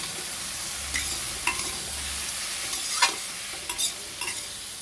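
Mango chutney with salt and turmeric being stirred in a pan, a soft steady sizzle under repeated scraping strokes of a spoon, close and alone with no voices.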